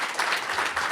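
Brief burst of audience applause following a speaker's introduction of a California assembly member, a steady dense clapping wash filling the room with no voices over it.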